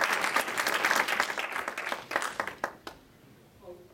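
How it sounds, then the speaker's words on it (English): A crowd at a life sciences panel event applauds briefly, thick clapping that thins into a few scattered claps and fades after about three seconds, followed by a faint voice. "let's give a big round of applause to Mudit and our panelists"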